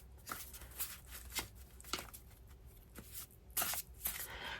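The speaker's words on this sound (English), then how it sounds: "I'm just going to keep on shuffling." Tarot cards shuffled by hand at close range, a continuous run of soft papery riffles and slaps in an uneven rhythm, quiet and alone.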